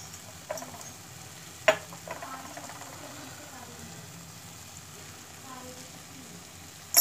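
Ginger halwa with black pepper and cardamom powder stirred in a pan, with soft scraping and a faint sizzle, broken by a few sharp spoon knocks against the pan, one near the start and one at the very end.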